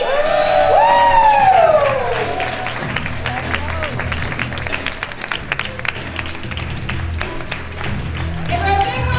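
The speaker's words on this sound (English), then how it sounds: "Give her a big round of applause!" A conference crowd applauds and cheers as the next speaker comes on stage, with loud whoops at the start and steady dense clapping afterward, as a voice briefly calls out over it.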